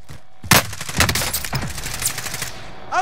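Rapid automatic gunfire in Call of Duty Warzone, a sharp opening burst followed by dense, continuous volleys of shots that thin out near the end and return with a final crack.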